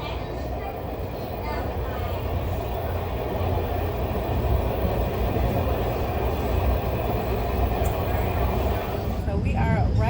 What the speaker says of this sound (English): So we are riding the train on the way to the airport